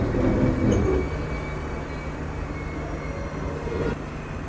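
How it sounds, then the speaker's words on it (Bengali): Shimanto Express pulling out of Bheramara station, a steady low rumble of wheels and carriages with a constant mechanical drone, loud and continuous throughout. "ভেড়ামারা রেলওয়ে স্টেশনে আমাদের ট্রেন তার নির্ধারিত যাত্রা বিরতি শেষ করলো এবং ট্রেন ছেড়ে দিল ভেড়ামারা থেকে"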